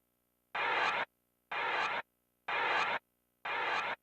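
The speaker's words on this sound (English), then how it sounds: "I reversed it, and I created a texture from it," Reversed snare drum sample turned into a texture in Ableton's Simpler: four evenly spaced half-second swells of noisy, bright sound, each separated by silence, fairly quiet and alone.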